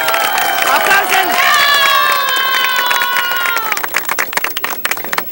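Crowd at a town gathering cheers and shouts loudly with high voices, then breaks into scattered clapping as the cheering fades, close and lively.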